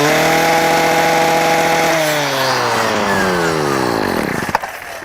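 A weed eater runs at high speed before its trimmer line is cut shorter, giving a loud continuous buzzing whine with shifting pitch that winds down near the end.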